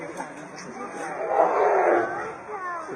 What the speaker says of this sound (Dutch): Leeuw.